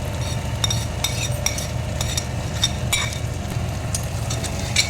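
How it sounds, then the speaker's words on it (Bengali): A fish head is fried with turmeric and spices in a pan for Bengali mung dal, with steady low sizzling and scattered clinks and scrapes of a spoon stirring against the pan. "মাথাটা আবার একটু মশলার সাথে একটু ভেজে নেব"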